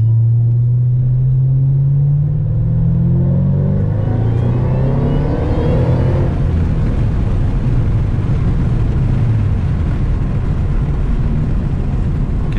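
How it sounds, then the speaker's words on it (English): A 2010 Ford Shelby GT500 pulls hard in second gear, its supercharged engine note climbing steadily for several seconds before dissolving into loud, broad wind roar as speed builds. "I can hear the supercharger. I couldn't hear it before."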